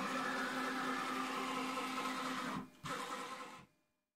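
The motors of a rigid steel CNC router whine steadily as the gantry moves while loaded with 20 kg of extra weight. The tone stays close and constant, dips briefly, then returns and stops.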